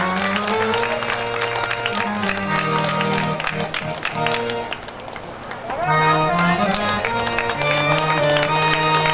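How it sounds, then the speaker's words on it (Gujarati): A crowd at a religious katha gathering claps loudly for the volunteers, sustained applause lasting several seconds, briefly dipping then swelling again, with background music tones running underneath. "હજી એકવાર જોરદાર તાળીઓ થઈ જાય."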